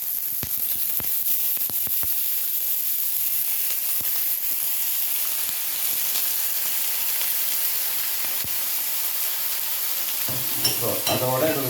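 Squid frying in a pan with onions, a loud, steady close sizzle and hiss, with scattered scraping stirs through it and a brief burst of voice-like sound near the end.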